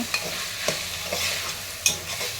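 Ingredients including mint and coriander are sautéed in a pan for coconut milk rice, with a constant soft sizzle and a few distinct spatula scrapes and taps.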